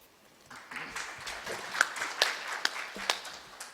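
A conference audience at a lecture claps in a sparse, quiet round of applause, with a few louder individual claps standing out and building slightly over a few seconds.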